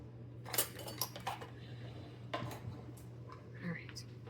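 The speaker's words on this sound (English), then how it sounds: "we're going to scoop out the rice" A rice spoon scrapes and clinks against a pot while scooping rice, several light metallic taps and scrapes spaced out, quiet and close, over a low steady hum.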